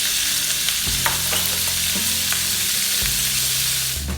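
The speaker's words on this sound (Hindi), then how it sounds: "ऑयल में चिकन को अच्छी तरह फ्राई करेंगे।" Small chicken cubes fry in a tablespoon of oil in a pan, giving a loud, continuous close sizzle with repeated stirring knocks and scrapes throughout.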